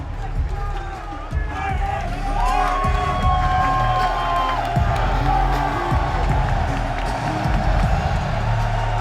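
Large crowd at a Rocket League esports major cheering and whooping in a packed arena, loud and sustained throughout with shouts rising above a dense roar.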